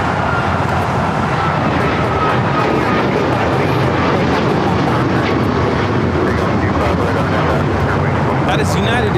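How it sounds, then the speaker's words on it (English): A United Airlines Boeing 737 MAX 9 takes off from LAX, a loud steady broadband jet roar filling the whole stretch with constant intensity, airport ambience around it and radio-style voices faintly audible. "That is United Airlines 1621 taking off to Orlando, Florida on the MAX 9"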